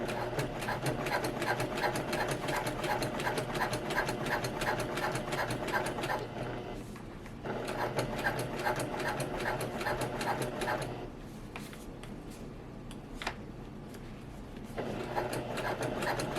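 A sewing machine top stitches a quilted shoulder bag in steady, rapid runs. It pauses briefly around six seconds, resumes, then slows to softer, intermittent stitching near the end, close and alone.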